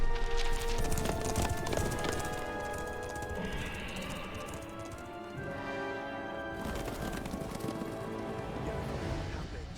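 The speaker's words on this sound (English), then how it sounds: "I think that would be me riding a horse." Horse hooves clip-clop steadily at a riding pace in The Witcher 3 video game, a continuous rhythmic clatter over rain and ambient game sounds, with a short whinny-like tone.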